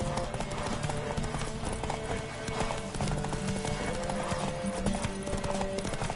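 Rapid rhythmic hoofbeats of a galloping horse in The Witcher video game, close and steady, with occasional voice sounds mixed in.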